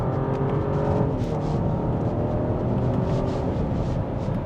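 A BMW X5 xDrive50e plug-in hybrid SUV drones steadily from inside the cabin as its transmission kicks down a gear, the engine note holding a constant, moderately loud hum with no voices.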